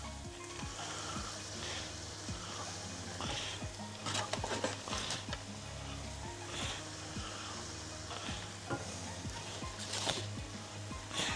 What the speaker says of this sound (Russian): Сейчас это все перемешаем, чтобы немножко мука прожарилась здесь.